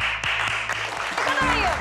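Audience clapping in a Turkish drama scene, a short, steady burst of applause heard throughout with a voice speaking over it.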